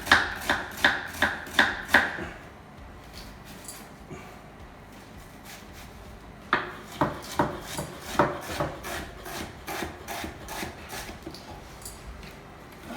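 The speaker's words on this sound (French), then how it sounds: "Donc on va ciseler un oignon." An onion being finely chopped with a knife on a wooden board, with two bursts of quick rhythmic blade strikes separated by a pause, each cut sharp and close.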